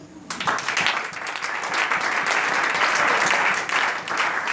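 A church congregation applauding: dense, sustained clapping from many hands, loud and steady from start to finish.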